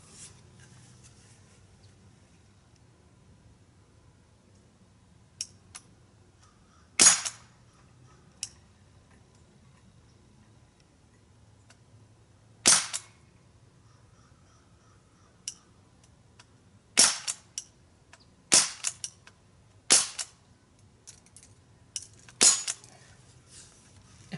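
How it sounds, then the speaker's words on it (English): Crosman 1077 repeater CO2 pellet air gun fired at metal targets: sharp, isolated snapping shots at irregular intervals, around a dozen cracks with faint metallic ticks over a quiet background. "the first one we're going to use is the Crossman, the 1077 repeater CO2 pellet."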